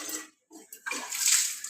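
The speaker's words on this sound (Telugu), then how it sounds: "వాటర్ అయితే పడుతున్నాను," Water from a tap pours into a container nearby, starting after a brief pause and swelling into a steady, rushing stream.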